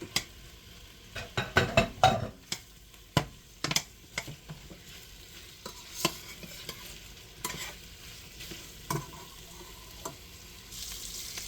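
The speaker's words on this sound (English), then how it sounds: "I did 2 ropes of kielbasa. We're going to brown those up." Two ropes of kielbasa browning in peanut oil, a steady close sizzle broken by frequent scraping and clattering stirs against the pan, with no talking.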